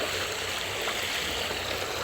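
Strong, fast-flowing stream water rushes steadily and loudly close by, a dense continuous roar with no pauses.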